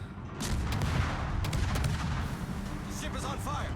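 An enemy ship fires its guns in the naval video game World of Warships, a dense, rumbling barrage of heavy booms that rolls on steadily throughout, with sharper cracks on top.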